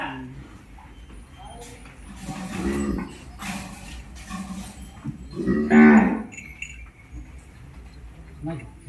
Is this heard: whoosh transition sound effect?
no